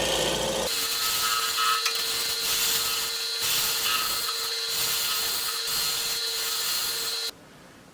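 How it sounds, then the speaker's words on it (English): A freshly sharpened scraper works over a cherry wood bowl spinning on a lathe, giving a steady, close, loud scraping hiss over the motor's constant hum for about seven seconds before cutting off abruptly. "I'm going to take a freshly sharpened scraper and just clean up a few of these little lines right here."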